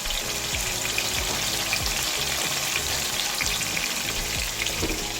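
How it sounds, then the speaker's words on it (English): Seasoning for ackee and saltfish sautés in a pan with a steady, close sizzle and light crackle, alone and unbroken for a few seconds. "So I'm allowing the seasoning to be sauteed a little bit."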